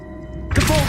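A single Revelio spell cast in the Hogwarts Legacy video game, a sudden loud whooshing thunk that swells out of quiet music and sustains briefly, close and alone.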